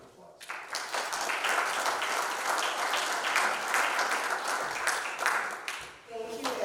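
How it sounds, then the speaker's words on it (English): A round of audience applause at a city hall of fame induction ceremony, full and steady clapping from a crowd that holds for about six seconds before easing, with a voice starting at the close. "Let's greet Terry Reinke with a round of applause"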